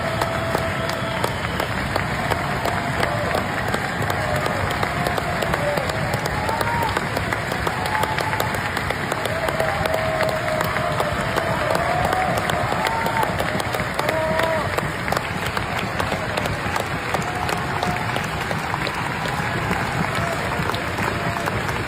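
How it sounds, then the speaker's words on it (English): Audience at the Bayreuth Festival giving a standing ovation to singers and musicians, dense continuous clapping mixed with cheers, loud and sustained throughout. "they had standing ovations, people were clapping"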